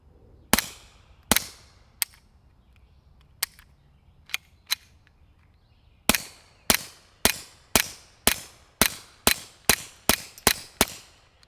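A Retay RXP22 pistol firing Remington subsonic ammunition: sharp, close shots, several spaced single shots at first, then a quicker, steady string of about a dozen, with quiet gaps between.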